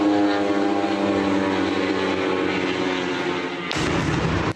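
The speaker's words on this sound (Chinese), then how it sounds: "一些爆炸影片也能听见，先是有无人机在附近盘旋，" A drone hums with a steady, droning buzz as it hovers nearby during an attack on Russia's Belgorod region. After a few seconds a sudden loud explosion booms and cuts off abruptly.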